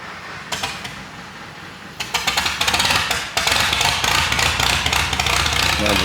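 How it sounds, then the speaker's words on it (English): A loud vintage tractor engine roaring through a straight-pipe exhaust, sputtering at first, then rising into a harsh, continuous rumble up close. "makes plenty of noise with that straight pipe"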